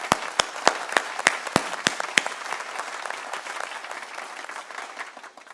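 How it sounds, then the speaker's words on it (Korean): A church congregation claps after worship, starting with sharp, evenly spaced loud claps in a steady rhythm that blur into a thinner scatter of applause and gradually fade out. "우리 예배를 기뻐 받으신 하나님께 박수로 영광 돌리도록 하겠습니다"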